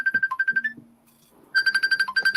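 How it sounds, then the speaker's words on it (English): Phone ringtone playing a repeated electronic melody of bright beeping tones, loud and close, with a short pause in the middle before the tune starts again. "Is that my phone?"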